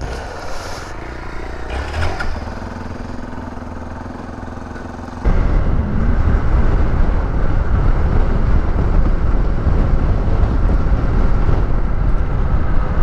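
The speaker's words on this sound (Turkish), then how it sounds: "Motor çok çabuk vitesin sonuna geliyor ya." A Hero XPulse motorcycle roars steadily while being ridden, its loud engine drone mixed with wind buffeting the microphone, and the sound grows denser and louder partway through.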